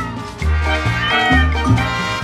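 A cat meows repeatedly in a rising, whining caterwaul, loud and close, with several drawn-out calls in quick succession and no talk over them.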